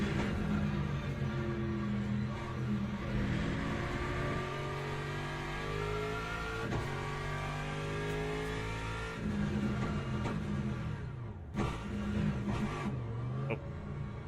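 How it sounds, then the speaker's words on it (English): Race car engine in a video game set at Qatar, a steady loud drone whose pitch slides and shifts as it goes down through the gears, with a sudden rev change and brief dips later on. "Shifted down one too many gears."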